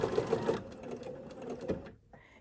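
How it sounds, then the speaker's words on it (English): Sewing machine stitching through quilting fabric, a fast steady run of needle strokes up close for about half a second, then a slower, uneven burst of stitching before it stops and a short mechanical whir follows. "And I'm gonna stitch, removing these pins"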